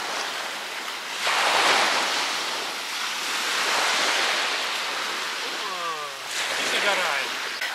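Waves wash onto a beach shore in broad surging rushes with wind buffeting the microphone, while people talk nearby.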